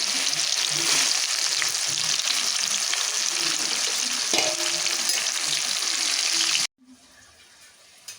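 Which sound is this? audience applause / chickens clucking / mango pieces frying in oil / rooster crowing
mango pieces frying in oil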